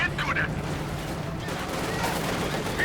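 Sustained barrage of artillery and gunfire battering a Soviet T-34 tank in the strategy game Company of Heroes 2, a dense continuous rumble of blasts with a crackling burst near the start and end, with a voice faintly under the din.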